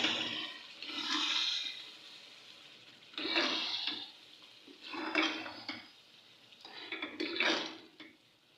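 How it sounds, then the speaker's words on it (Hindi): A spoon stirs chicken shalgam curry in a pot in four separate scraping, sloshing passes with short pauses between them, close but fairly soft. "इसे अच्छी तरह से मिक्स कर लेंगे।"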